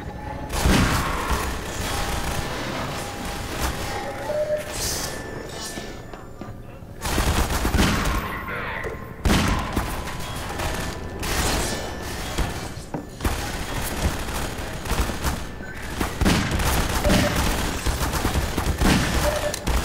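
Gunfire in the video game Half-Life 2, with loud bursts of shots and heavy impacts in dense clusters for most of the stretch and a few brief lulls between volleys. A voice is faintly present underneath.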